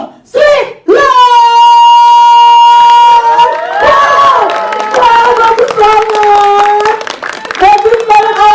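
At a press conference revealing the official poster for the film Home Sweet Loan, the audience breaks into loud applause. Excited high-pitched squeals and cheers ring out over the scattered clapping throughout.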